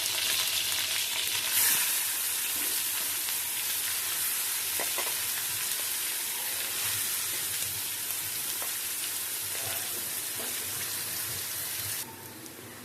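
Curry leaves and onions fry in hot oil for Madurai-style egg kothu, a dense, steady hiss of sizzling that stays loud and close throughout, easing slightly near the end.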